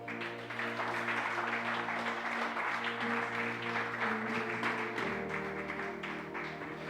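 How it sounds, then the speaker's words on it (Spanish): A church congregation claps steadily and loudly for several seconds, the applause dense and sustained over a backdrop of music. "Dale un aplauso al Señor."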